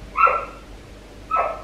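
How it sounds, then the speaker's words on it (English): A dog gives two sharp, loud barks close by, separated by a short pause, with no other sounds around them. "Oh, the dog."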